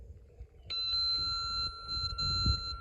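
A Snap Circuits electronic tone circuit with an adjustable resistor switches on into a steady, thin, ringing electronic tone that holds unchanged for a couple of seconds over faint low rumble and handling noise.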